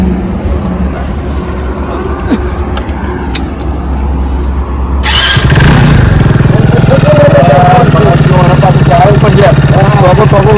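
A motorcycle engine starts partway through and settles into a loud, steady idle, with people talking over it.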